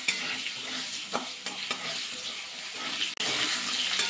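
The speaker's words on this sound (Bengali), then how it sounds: "তেলের মধ্যে এবার আলুগুলো দিয়ে দেবো।" Potato pieces frying in salted oil in a pan for a Bengali mixed vegetable dish give a steady, close hiss and sizzle, with a few clinks and scrapes of stirring along the way and no talking.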